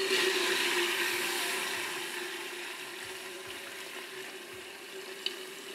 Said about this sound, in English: I'm just going to fill up this doer with some liquid nitrogen.